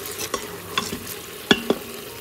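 Shrimp pasta sauce stirred in an Instant Pot in sauté mode, a few distinct scraping knocks of a utensil against the pot over a faint sizzle.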